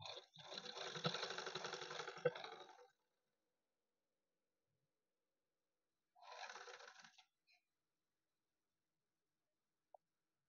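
A sewing machine stitches a fresh seam on a blouse, running in one steady burst of about three seconds, then silence, then a shorter second run, close and fairly quiet.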